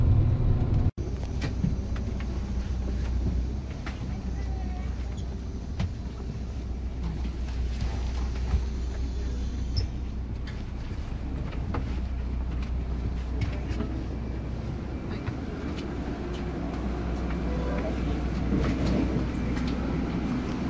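Trent Barton Red Arrow bus travelling slowly along the road into Nottingham centre among other buses: a steady low engine rumble with road and wind noise throughout, heard from inside the vehicle.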